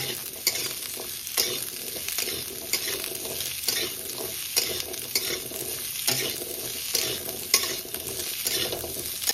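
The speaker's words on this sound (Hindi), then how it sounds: "तेल सहित अमृतभंडाटा को आमे भल भाव मिक्स करना। गैस फ्लेम को आमे हाई रे रखिया।" Chopped amruta bhanda, raw papaya, is stirred in hot oil over a high gas flame, a steady sizzle broken by repeated scraping strokes of a spatula against the pan at a regular rhythm, with no talk.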